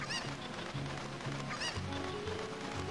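Cucco chickens in the video game Ocarina of Time, randomized, squawk and cluck in repeated bursts over busy game music and effects, loud and continuous throughout.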